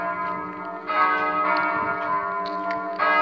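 Church bells ring at the Monte Lussari mountain sanctuary, a steady layered peal of overlapping strikes with rich sustained tones, loud and close, continuing without voices.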